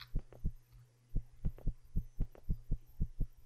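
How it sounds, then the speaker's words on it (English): A rapid heartbeat sound effect in a video game thumps in paired beats over a constant low electrical hum, repeating steadily and quickly. "Why is my heart beating so fast?"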